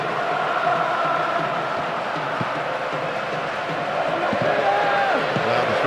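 Continuous stadium crowd roar from the football video game PES 2009, a dense, steady murmur with chants rising and falling underneath a commentator's voice.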